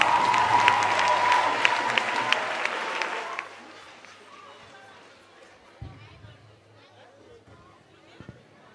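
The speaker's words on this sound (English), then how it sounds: "Give him a round of applause." Audience applause fills a Christmas choir concert at Clarendon College, loud and dense for about three seconds, then dropping abruptly to scattered faint claps and low room murmur with a couple of thumps.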